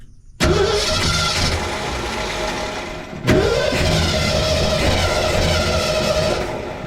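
A 1968 Ford F250 engine cranks hard twice in close succession, each a loud, steady grinding starter churn lasting a few seconds with a brief pause between, the truck being turned over to test the fuel pump.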